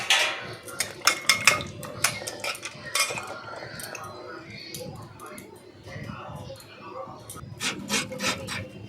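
A potato rubbed against a grater, irregular rasping scrapes and metallic clinks that come in quick bursts and pauses, close by and fairly quiet.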